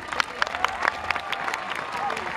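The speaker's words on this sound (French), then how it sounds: "Le public, on va applaudir nos joueurs et surtout nos joueuses, s'il vous plaît." Spectators at a Toro Piscine bullring show in Moliets applaud the players, scattered distinct claps over crowd murmur, moderately quiet and uneven, with voices present.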